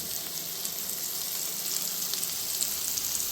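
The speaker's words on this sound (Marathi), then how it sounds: "हे 4 पीस फ्राय करण्यासाठी ठेवले बघा मित्रांनो" Four flour-coated barramundi fish pieces frying in oil in a pan, giving a steady, dense hiss of sizzling with small crackles, close and continuous, with nobody talking.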